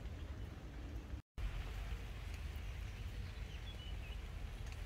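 Rain falls steadily in the Kassel city garden park, a continuous soft broadband patter close to the ground, broken only by a brief dropout near the start, with no talking.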